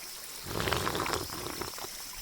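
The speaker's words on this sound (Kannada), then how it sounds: "ಬೆಟ್ಟದಿಂದ ಬರ್ತಾ ಇರೋ ನೀರು" Hill stream water runs and splashes steadily in a soft, continuous rush, fairly faint and fairly close, with no voices.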